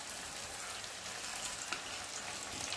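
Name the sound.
curry with sugar and meat masala simmering in pan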